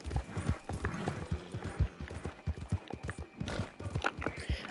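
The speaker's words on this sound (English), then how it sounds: "These horses are very upset." Agitated horses in Red Dead Redemption stamp with rapid clopping hooves and let out occasional neighs, a busy, continuous mix at moderate loudness.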